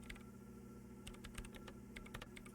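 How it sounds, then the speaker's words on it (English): Quiet, rapid keyboard typing on a machine in the video game Disco Elysium, with scattered clicks over a low constant hum. "Her hands typing hundreds of commands into the machine."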